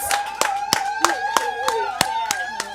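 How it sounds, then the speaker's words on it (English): An audience claps at a Human Rights Day 2024 event, mostly sharp, evenly spaced claps over a sustained tone, with a voice faintly underneath. "and clap yourselves."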